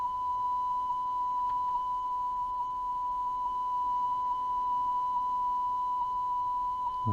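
A steady high test tone plays from a Sony TC-K415 cassette deck, a thin continuous beep over faint hiss, its level drifting slightly up and down, alone and fairly quiet.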